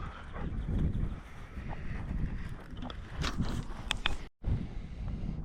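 A dog barks and whimpers outdoors during a truck camping trip. The sounds are mid-distance under heavy wind noise, with a short dropout near the end.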